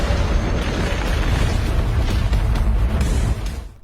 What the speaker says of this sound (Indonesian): behemoth tahu-tahu malah meledakkan diri